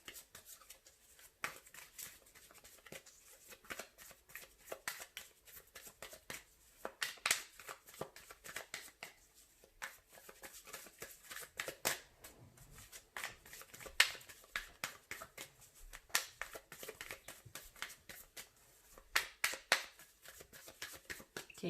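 Cards are shuffled close up in repeated riffling bursts with short pauses between, crisp and papery, with no talking.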